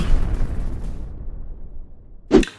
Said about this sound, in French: Il y aura des explosions